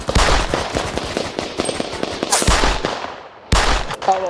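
Rapid bursts of gunfire in urban combat, loud and close, with sharp overlapping rounds fired in irregular volleys, a brief lull, then a heavy burst resuming near the end.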